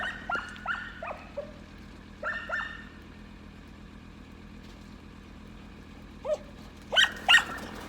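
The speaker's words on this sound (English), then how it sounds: "there's my very excited dog" An excited dog barks in several short bursts, a few quick yelps close together, then a pause and louder barks near the end, over a low idling engine hum in the morning with no talking.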